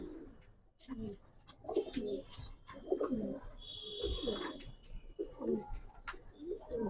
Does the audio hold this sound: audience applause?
no